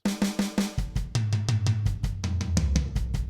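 A drum kit plays a quick fill, snare hits giving way to rapid tom strokes paired with punchy low beats from two bass drums, close and loud.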